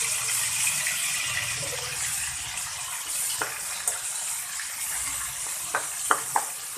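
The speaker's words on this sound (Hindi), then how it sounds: "अब उसी ऑयल के अंदर मैं ये डाल देती हूँ जिंजर गार्लिक का पेस्ट है" Ginger garlic paste, about three tablespoons, frying in hot oil for a karela dish, giving a steady hiss with a few sharp spatters and clicks near the end, no voices.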